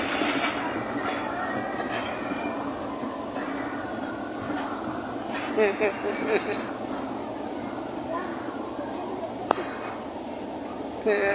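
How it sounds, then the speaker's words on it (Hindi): A passing train rolls steadily for the whole stretch, with a continuous rumble and rattling rail noise, a sharp clank near the end, and talking on top of it. "कितना प्यारा मंजर है रेलगाड़ी का"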